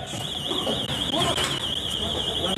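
Shop burglar alarm at an electrician's store ringing continuously during a break-in, a steady piercing warble that stays loud for the whole stretch, with faint background noise beneath it.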